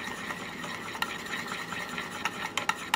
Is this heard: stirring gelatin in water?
yes